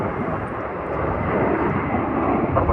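A fixed-wing airplane taking off from an airport runway, watched from an observation area: a loud, steady broadband engine roar that builds slightly over a few seconds, with no talk.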